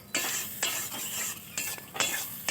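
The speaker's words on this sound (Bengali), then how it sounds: "এখন হালকা করে একটু নাড়িয়ে নিতে হবে।" Radish curry in a pan with added water, stirred with a utensil: four or five brisk scraping strokes at even intervals over a soft simmering sizzle, close and moderately loud, no voices.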